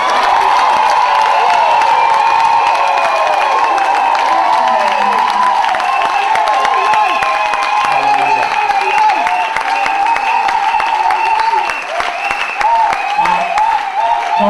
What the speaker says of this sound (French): Est-ce qu'on peut encore mieux acclamer les seigneurs?